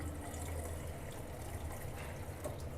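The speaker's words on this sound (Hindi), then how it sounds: "इसमें हम डाल देते हैं थोड़ा सा पानी, ताकि हमारे मसाले पक सकें।" Water poured from a vessel into drying masala in a home kitchen, a soft continuous hiss and trickle lasting a few seconds, close and moderately quiet with no talking.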